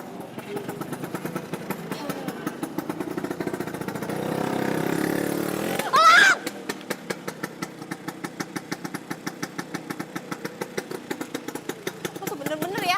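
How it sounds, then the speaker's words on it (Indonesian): A motorcycle engine idles and revs in a steady mid-pitched drone, then settles into a rapid rhythmic putter; a short squeal cuts in briefly midway. "kayak suara motor elang."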